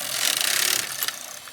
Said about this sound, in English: I'm going to set the carriage to hold, and I'm going to bring out my first needle to hold